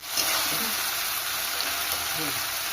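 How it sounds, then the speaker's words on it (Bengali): Tomatoes fry with spices in a pan for Kolkata-style ghugni, giving a steady, even sizzling hiss from start to finish, with faint speech underneath. "লাল টমেটোটাকে ভালো করে ভেজে নিতে হবে মশলার সঙ্গে"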